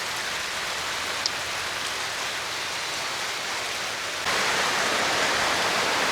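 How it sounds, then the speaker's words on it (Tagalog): Heavy rain pours steadily onto a small farm, a dense and constant hiss that grows slightly louder and fuller toward the end, with no voices over it. "Malakas po yung ulan eh."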